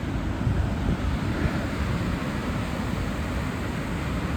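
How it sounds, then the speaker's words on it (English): Steady broadband rushing of a waterfall at Chorillo del Salto in El Chalten, Argentina, heard as a continuous moderately loud roar with some wind buffeting and no voices. "another waterfall"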